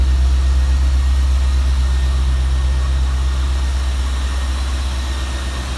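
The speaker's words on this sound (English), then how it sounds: "It's a lovely, lovely, sweet engine." A 1990 Corvette C4 V8 idles with a deep, steady rumble close up, smooth and even throughout with a low throb and no talking; the exhausts are worn.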